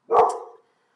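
A dog lets out a single sharp, loud bark close by, followed by silence.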